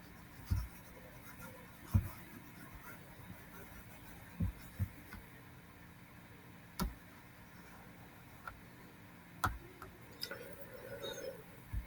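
Equations written by hand, with soft scratching strokes and a few sharp taps of the pen at irregular moments, faint and close over a low steady hum.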